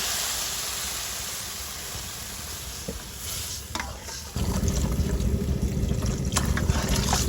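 Water goes into a pot of small fish curry with turmeric and chili powder at a village stove. A steady sizzle and bubbling swell suddenly louder partway through, with faint scraping stirs.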